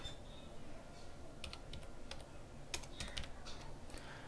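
Rapid, irregular keystrokes on a computer keyboard as a phone number is entered, a few light clicks then a denser burst of taps, close and clear over a low room hum.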